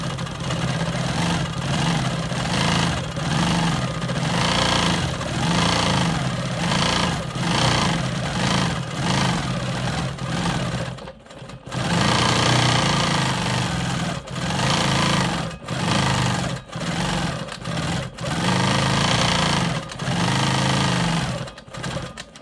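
A quilting machine hums steadily while stitching in the ditch and then loops across a diamond quilt block, its motor running continuously with a fine rhythmic pulse. A brief pause comes near the middle before it resumes loudly, with no talk.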